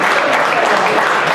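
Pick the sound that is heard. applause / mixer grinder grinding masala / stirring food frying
applause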